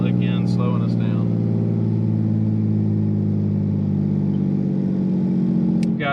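A 2001 Dodge Ram 24V diesel with a six-speed manual, towing a camper down a mountain grade, drones steadily under pack-brake engine braking, a loud, low, even rumble heard from the cab while a voice talks at the start.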